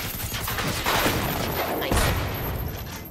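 Continuous dense gunfire and booms in Generation Zero, loud and sustained as a chaotic barrage against robots, with a brief spoken remark over it.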